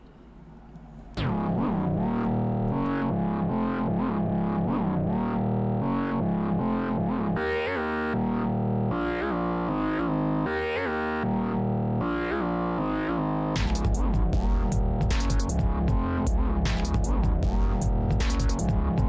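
An early rawrdcore song plays as a loud, continuous recording, its heavily distorted, effect-laden synths and chorus-warped tones throbbing through shifting chords, with a brief quiet lead-in before the full mix hits.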